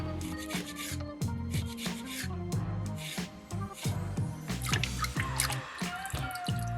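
Water rinses a soapstone sea turtle carving between sanding grits, with close, uneven dripping and splashing mixed with rubbing scrapes of the wet stone.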